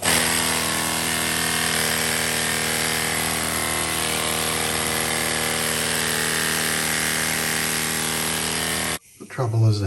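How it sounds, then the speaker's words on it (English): A power sander fitted with a cut-down sanding belt works steadily on a carbon chainplate repair on a hauled-out sailboat, a loud continuous whirring grind that runs nearly unbroken before cutting off abruptly near the end. "I've cannibalised a sanding belt, which is much tougher"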